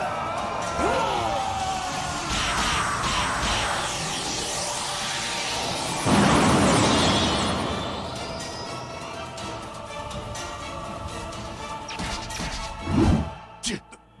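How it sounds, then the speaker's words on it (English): A Special Beam Cannon energy blast and explosion from a Dragon Ball Super fight between Ultra Instinct Goku and Moro: loud crashing bursts with a sharp surge near the middle and another heavy hit near the end, mixed with voices. "Take this, you! Special beam cannon!"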